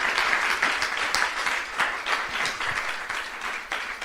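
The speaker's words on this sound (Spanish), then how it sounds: "Dale un aplauso al Señor. Dale bien fuerte." A church congregation applauds during a sermon, a full, steady roll of many hands clapping close and loud throughout.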